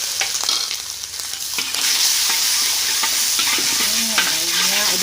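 Ground spice paste hitting hot oil in a wok for street-style fried rice, producing a loud, continuous sizzle with scraping spatula strokes and stirring clatter throughout.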